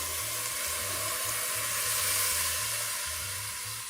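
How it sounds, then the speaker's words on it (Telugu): Soaked rice frying in oil in a home kitchen pan, giving a steady, close sizzling hiss with no voices over it. "సో ఇది ఒక 1 మినిట్ ఇట్లా ఫ్రై చేస్తాను ఆయిల్లో"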